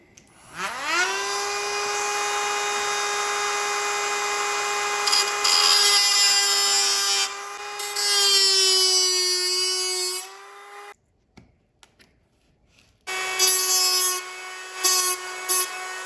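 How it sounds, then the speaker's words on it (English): High-pitched whine of a small rotary tool cutting and smoothing model railway track, starting with a rising tone and holding steady for about ten seconds, then briefer bursts of grinding after a quiet pause, close up. "just going to mark the track where that's going to go to, and then carefully cut it off"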